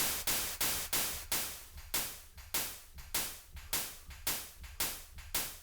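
About a dozen white noise hits synthesized in Vital, each a sharp hiss that fades quickly, repeating at a steady pace with no voices.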